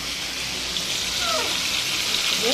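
Water pours into a simmering hilsa fish curry with ridge gourd to make the broth, a continuous close gushing splash that runs the whole time over the pan's background hiss.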